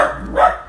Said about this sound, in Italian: questa è Mora che abbaia